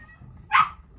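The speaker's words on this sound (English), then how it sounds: "My puppy is barking." A puppy gives a single short, loud bark indoors, rising briefly over a quiet room hum before fading.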